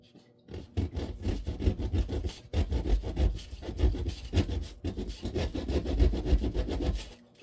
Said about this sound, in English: Let's cut a slice out of it.